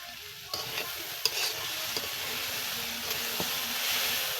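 Pumpkin and prawns stir-frying in a pan, with a steady close sizzle and occasional scraping stirs of a spatula, no voices.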